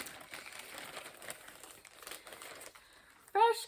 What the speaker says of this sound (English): sorry, plastic bag